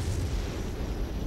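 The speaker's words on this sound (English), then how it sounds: "Oh, here comes our airstrike." Precision bombs from an airstrike detonate in the strategy game Regiments, a dense, rumbling low boom that fills the brief moment with heavy, rolling blast noise and no speech.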